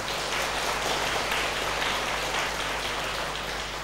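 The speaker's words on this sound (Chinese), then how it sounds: "我们以热烈的掌声欢迎" An audience at a Buddhist sutra lecture gives a warm welcome to a visiting dharma master, a steady, dense rain-like hiss of many hands clapping that holds evenly throughout with no talking.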